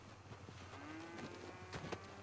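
A cow in the video game Red Dead Online gives a single drawn-out moo, moderately close and clear over a low steady game-world background hum.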